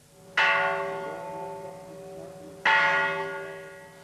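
The ritual peace bell is rung at the opening of the UN General Assembly. Two clear, resonant strikes come a couple of seconds apart, each ringing on and fading slowly.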